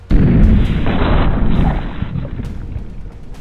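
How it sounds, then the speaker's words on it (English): A single loud, close 10mm Auto pistol shot firing a 135-grain jacketed hollow point, a sharp blast followed by a few seconds of booming, decaying echo. "So we're gonna start with our first shot, 135 grain, jacketed hollow point from the 10mm through the upper chest."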